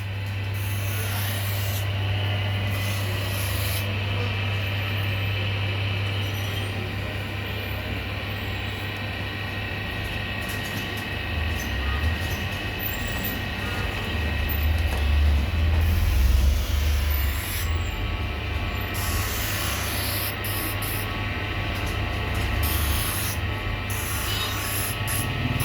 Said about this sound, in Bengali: এটারে কি মেশিন বলে? Fitting machine.